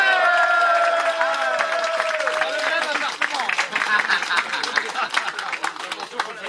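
Crowd applause and cheering at a charity telethon event, building into dense, loud clapping mixed with whoops and crowd noise, with a sustained tone fading early on.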